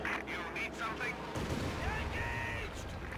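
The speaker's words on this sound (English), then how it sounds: "Katusha throwing some barrages into the center" Katyusha rocket barrages in Company of Heroes 2 rumble as a sustained low roar of launches and impacts over a steady battle bed, with a voice talking throughout.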